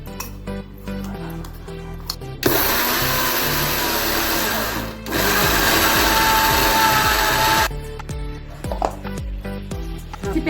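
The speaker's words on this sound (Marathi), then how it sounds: "आणि आता आपण हे मिक्सरमध्ये वाटून घ्यायचं।" A kitchen mixer grinder blitzes sesame chutney in a loud, steady whirring burst with a brief pause midway, framed by quieter clatter and handling noises before and after.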